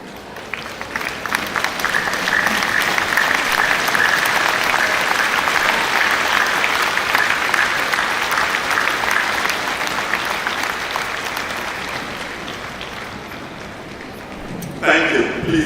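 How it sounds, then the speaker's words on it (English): A commencement audience applauds a graduating university class, loud sustained clapping that fills the hall for many seconds, then thins out before a brief louder swell at the end. "Let's all stand and give them a round of applause."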